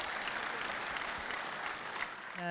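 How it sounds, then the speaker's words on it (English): Faint, distant-sounding applause on an outdoor hunting television program, a soft wash of clapping that stays quiet throughout the short stretch. "Let's give Dylan a big round of applause for a heck of a deer."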